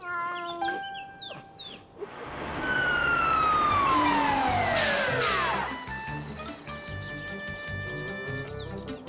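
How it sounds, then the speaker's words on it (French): Cartoon fire engine siren wails loud and close as the big red truck arrives, a rising then falling sweep over a rumbling engine, with no talk. "Caillou était tout excité de voir les pompiers arriver dans leur grand camion rouge."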